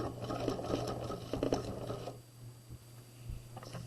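A sewing machine back-stitches and then edge-stitches across the top of a quarter-zip jacket pocket, running steadily for about two seconds close by before stopping and leaving a quiet room with faint clicks.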